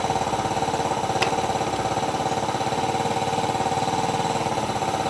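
A Yamaha Mio 125 RR scooter engine with a starting and fast-draining battery fault runs steadily at close range, a loud even mechanical drone with a rapid pulsing rhythm and a brief sharp tick partway through.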